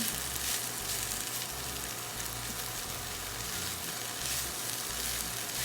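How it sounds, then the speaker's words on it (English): Spinach sautéing in oil in a pan over roughly medium heat gives a steady, continuous sizzle and crackle with a few low thumps of stirring, close by and with no voices. "when you saute it in some oil, you definitely can smell it while you're cooking it up"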